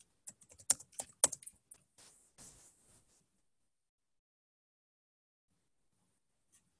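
Quick, light keystrokes clatter on a computer keyboard for about three seconds, close but faint, followed by near silence with one last soft click.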